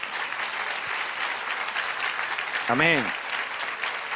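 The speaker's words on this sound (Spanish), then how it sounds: "Dale un aplauso al Señor otra vez." A church congregation applauds throughout, with steady, dense clapping at moderate loudness, and a single voice briefly rises over it near the end.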